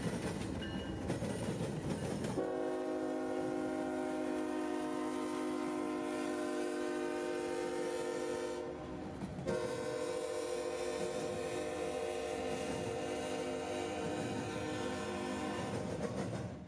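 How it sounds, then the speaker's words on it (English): Norfolk Southern intermodal train 249, Atlanta to Jacksonville, passing close by with a loud, sustained horn blast and steady rumble of rail cars, the horn cutting out briefly and returning. "Norfolk Southern would show up with an Atlanta to Jacksonville intermodal train, number 249"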